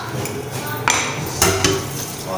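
Dishes are scrubbed with soap at a home kitchen sink, with dull clinks and a few sharper clanks of pots and utensils over a steady wash of running water.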